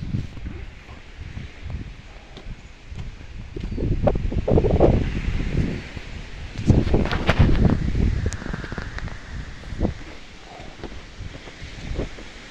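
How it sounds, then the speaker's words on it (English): Gusty wind buffeting the microphone at Queen's View, a Scottish viewpoint, as low rumbling bursts that swell and fade irregularly over a quiet outdoor background, with no talking. "it's windy, I do apologise."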